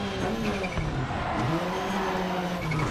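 Subaru Impreza WRC sliding on gravel in the Dirt Rally 2.0 rally video game, a close, loud, revving engine whose pitch rises and dips under a continuous rough gravel crunch and tyre scrub.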